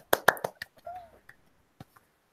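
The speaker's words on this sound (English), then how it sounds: "Look at that clapping." A few sharp hand claps ring out in quick succession, followed by sparse isolated claps and a brief faint tone, fairly quiet overall with no speech.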